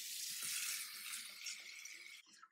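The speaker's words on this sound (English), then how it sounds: "So now that I've rinsed this bowl in hot water" Hot tap water running into and rinsing a bowl in a home kitchen, a steady close hiss of flowing water that swirls and shifts, then cuts off near the end.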